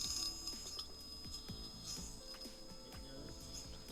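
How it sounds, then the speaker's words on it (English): Damaged hard drive with harmed platters spinning up, a faint repeated clicking over a steady whine and hum, with no talk. "This is the clicking of a hard drive."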